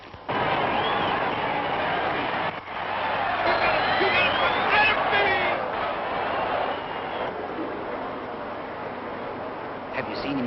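A crowd fills the stands at a horse race and gives off a dense, steady roar of chatter and cheering. Some voices stand out close by over the continuous murmur.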